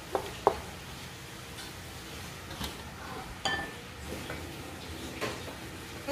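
Metal pot lid set back onto a pot while chopsuey with chayote and carrots cooks, a couple of sharp clinks followed by faint scattered kitchen clatter.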